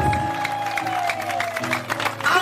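A church congregation claps in praise of God, steady dense applause mixed with crowd voices and sustained musical tones from singing or instruments.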